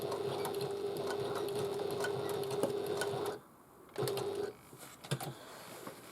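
A sewing machine stitches the sides of an Antonella bag, running in one steady, close burst for about three seconds before stopping, then giving a couple of short, quieter restarts.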